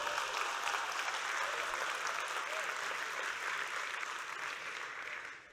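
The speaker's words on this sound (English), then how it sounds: "Let's give them all a round of applause" Audience applause at a Jewish community conference, a broad sustained wash of clapping that stays loud and steady before tapering slightly at the end, with no talk over it.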